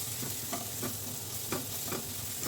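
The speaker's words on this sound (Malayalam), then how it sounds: "പേസ്റ്റ് ഇട്ട് അതിൻ്റെ പച്ചമണം മാറുന്നത് വരെ നന്നായിട്ട് വഴറ്റുക." Crushed green chilli, ginger and garlic paste sautéing in a pan: a soft, continuous sizzle with a spoon scraping through it in repeated stirring strokes, fairly quiet.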